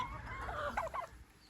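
A single chicken gives a brief, soft cluck close by, against a quiet background.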